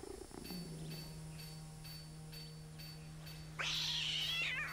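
A cat meows in the Red Dead Redemption 2 video game, with a short low call near the start and a louder, drawn-out meow near the end over a steady game hum.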